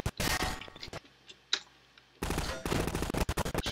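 Rapid bursts of automatic gunfire in Garry's Mod ring out loud and close, breaking off for about a second of quieter pops and clicks before firing resumes in dense volleys.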